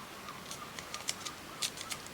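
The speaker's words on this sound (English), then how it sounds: "Gosh, they've got lots to say today, those big seagulls." Big seagulls calling outdoors, several short bright cries scattered across the moment at moderate distance, fairly faint over a steady background hiss, with no talking.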